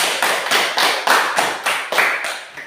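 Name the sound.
class applauding a presenting group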